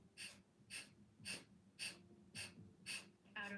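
Rhythmic yoga breathing, with seven sharp, evenly spaced exhalations forced out through the nose about every half second. Each is a short, breathy burst, close and clear, with no talking over them.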